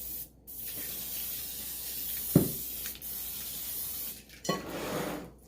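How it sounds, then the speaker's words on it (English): Buttered-flavor cooking spray sprayed into a mixing bowl: a short burst of hiss near the end of the clip, close and clear, after a few small clicks and handling sounds over a quiet kitchen background, no talking. "I just have a buttered flavor cooking spray that I'm using"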